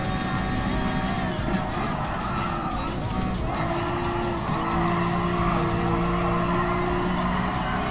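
A Ferrari LaFerrari (N1000) race car driven in Gran Turismo Sport, engine droning steadily with shifting tones and squealing, skidding tires throughout, loud and continuous.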